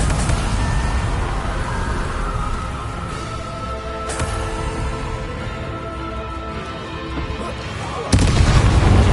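Spell combat in the PS5 game Hogwarts Legacy, with a steady loud wash of magical blasts and rumbling impacts, sharp bursts near 4 and 8 seconds, and a heavier crash at the end.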